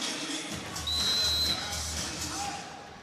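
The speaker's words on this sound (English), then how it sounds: "Gone early on the referee's whistle." A referee's whistle at a Germany versus Japan volleyball match, sounding as one sustained shrill blast over steady arena crowd noise and commentary.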